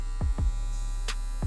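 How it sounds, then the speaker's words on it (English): A TPOB Slime edition electric hair trimmer runs with a steady, quiet mechanical hum, close up and alone, with a few soft clicks and handling taps over it. "Let's go ahead and turn on the trimmer for y'all."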